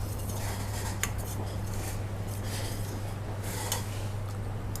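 A utensil stirs kuih lapis batter in a pot before a layer is poured, giving soft scraping and light clinking touches at irregular intervals over a steady background hum, close by and without talking.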